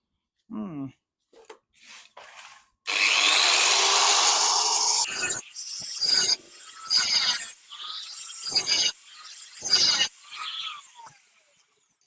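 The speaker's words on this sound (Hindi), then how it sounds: "तो अब इनको काट के फ्लैट हेड बनाएंगे, उसके बाद इनको फ्लैट हेड स्क्रूज से खोलेंगे" Sawing slots into seized screw heads on a Mahindra Scorpio: a loud, steady grinding-cutting burst lasting a couple of seconds, followed by shorter intermittent scraping and rubbing strokes with brief pauses between them.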